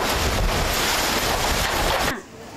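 Typhoon Leon's strong wind and rain lash Cagayan in a loud, steady broadband roar that cuts off abruptly near the end.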